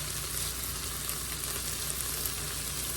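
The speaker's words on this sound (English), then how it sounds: "I want to get this tomato paste down touching the hot portion of this pot." A heaping teaspoon of tomato paste sizzles against the hot bottom of a pot of Texas red chili, a steady, quiet, close crackling hiss with no talking.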